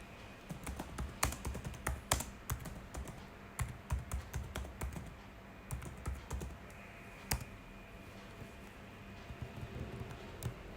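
Computer keyboard typing while configuring a MongoDB replica set on a server: irregular bursts of quick key clicks, close and fairly quiet over a faint steady hum, with no talking.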